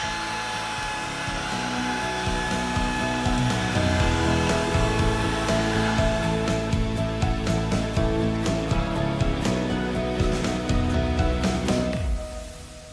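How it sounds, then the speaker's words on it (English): A Smoke Genie handheld smoke machine runs with a steady high-pitched motor whine, continuous and fairly loud for about twelve seconds before winding down at the end. "So this is a handheld smoke machine."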